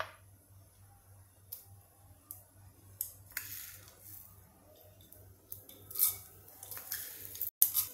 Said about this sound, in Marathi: आता ही मोहरी फुटू देत।